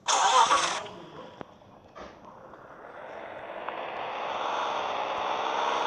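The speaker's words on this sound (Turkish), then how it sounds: "Arabalar hızlı burada." Car engine in the video game Crime Santa: a brief burst of noise, then an engine starts and idles, its hum steadily building and revving louder over several seconds, with no talking.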